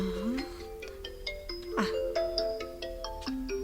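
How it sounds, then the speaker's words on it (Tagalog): A cellphone ringtone plays a bright, repeating electronic melody of short ascending and stepping tones, moderately loud and continuous, with no talk over it. "Senyorita, agon uni ti cellphone mo."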